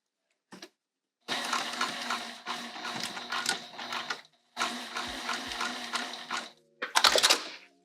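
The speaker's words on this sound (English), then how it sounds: "Let's go to the machine and I'll sew this back on." A sewing machine stitches on a patchwork zipper case, running in several close, fairly loud bursts of steady mechanical whirring and rattling, separated by brief pauses.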